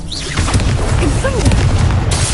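Confringo spell blasts in Hogwarts Legacy, dense booming bursts of explosive energy filling the whole moment with continuous rumble and crackle.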